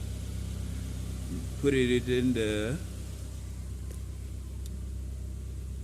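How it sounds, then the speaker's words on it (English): A 2014 Ford Fiesta 1.4 engine idles with a steady low hum and rumble throughout, close and even, while someone talks briefly over it partway through. "Start the engine and idle it for 10 to 15 minutes."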